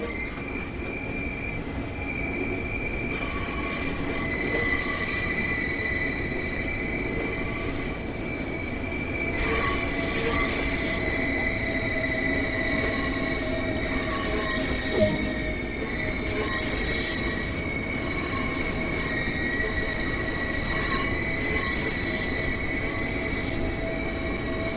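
A Southeastern High Speed train in Train Sim World 2 rumbling steadily along rails, with a continuous drone and high squealing tones from the wheels, close and constant throughout.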